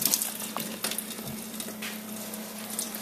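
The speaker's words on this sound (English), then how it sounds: "Now, rinse the other hand with hard water." A hand is rinsed under a running tap of hard water, giving a steady, fairly faint hiss and splatter with no voices.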